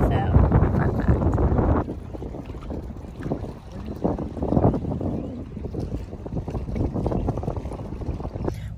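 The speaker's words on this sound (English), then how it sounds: "It's windy." Strong wind buffets the microphone in rough, low rumbling gusts at a fishing spot, with faint voices underneath and watery lapping in the background.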